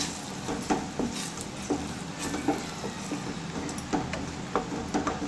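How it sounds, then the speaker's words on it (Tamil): Bread halwa with added nuts being stirred in a pan, heard as a steady soft sizzle with regular light scraping ticks from the spoon, moderately close and with no talking. "இதை நல்லா கிளறி விட்டுக்கலாம்"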